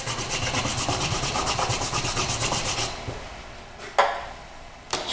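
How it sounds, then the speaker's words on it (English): Rubbing buffing compound into a leather strop for knife sharpening, heard as a steady close scrubbing rub with regular back-and-forth strokes for about three seconds, then quieter with a couple of sharp taps. "I rub it into the leather."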